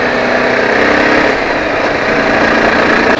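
Yezdi Adventure motorcycle engine running steadily while the bike is ridden and leaned through turns on a road toward the hills, a loud continuous drone with no talk.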